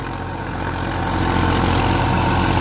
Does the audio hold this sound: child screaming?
no